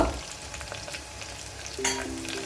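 Softened onion and tomato sizzle in a pan as coriander and asafoetida go in for a Malvani sweet dal. The frying is close and steady, with a few scraping stirs and a brief clink near the end.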